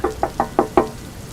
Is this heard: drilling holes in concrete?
no